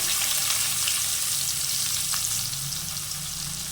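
Onions fry hard for a mutton masala, giving a loud, dense, steady sizzle with faint stirring throughout, and no voices.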